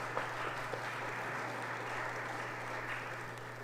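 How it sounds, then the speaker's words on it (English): Applause for a musician at a Sunday church gathering, a steady broad clatter of clapping from the audience sustained throughout with no talk over it. "Give him a round of applause."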